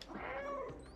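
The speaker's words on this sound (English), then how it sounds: "Meow." A single close meow from the cat in the video game Stray, a drawn-out, clear call lasting about a second with no talk over it.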